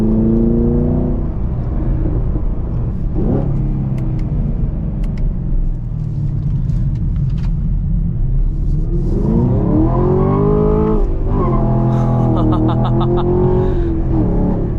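A Chevrolet Camaro LT1 with manual transmission launches hard on a 0 to 60 run, its engine roaring up through rising revs with shifts between gears, loud and close from inside the car.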